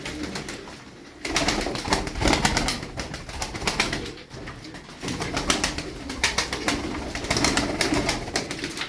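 Tumbler pigeons coo in soft repeated bursts close by, with fluttering and shuffling inside a loft.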